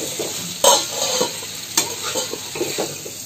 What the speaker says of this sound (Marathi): अशी सुकी करायची, फ्राय करायची.